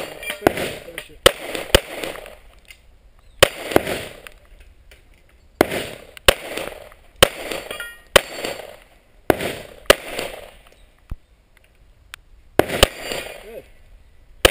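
Gunshots ring out at a 3-gun combat shooting match, loud and close, coming singly and in quick pairs or bursts with short pauses between strings, while people talk between shots.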